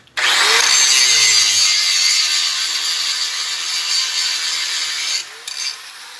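A 4.5 inch angle grinder grinds a fillet weld on metal with a loud, steady, close-up whine that holds for several seconds, then briefly dips and resumes.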